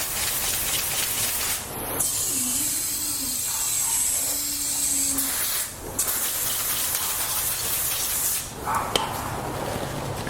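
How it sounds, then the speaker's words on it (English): A hose sprays water steadily onto a car wheel to rinse off dirt and brake dust, a loud continuous hiss that dips briefly a few times, with no talk. "let me rinse it all down"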